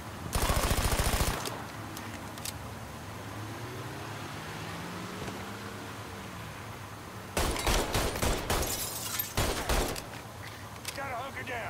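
Loud bursts of automatic gunfire in Mafia III, one burst at the start and a longer volley later, with a quieter stretch of background noise and traffic between them.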